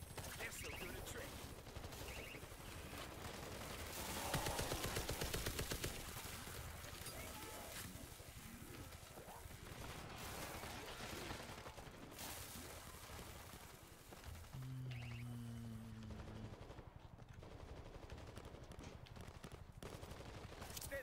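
Sustained rapid gunfire from a video game shooting match rattles on throughout, loud and dense with repeated bursts, along with game effects and some talking underneath.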